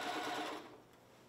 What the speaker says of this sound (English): So just keep kind of pulling the fabric and letting the machine pull it through.